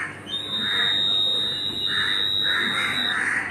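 A laser security alarm triggered by a broken beam sounds a steady high-pitched electronic tone continuously, with a faint pulsing hiss underneath.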